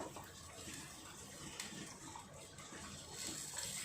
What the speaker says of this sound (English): To this I'll add little bit of water